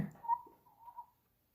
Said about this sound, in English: She just gave me a little whistle to say, Dad, not now.